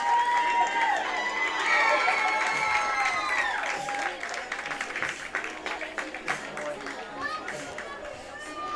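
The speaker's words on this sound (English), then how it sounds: "Crowd gives Jimenez an applause." Spectators at a high school baseball game between Lakeview and Estacado applaud a player leaving for a pinch runner, a scattered crowd sound of claps and cheers under steady commentary.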